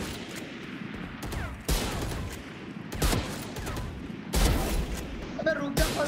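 Video game gunfire sounds as several sharp bursts spaced across the moment, loud against a busy background, with a voice speaking between the shots.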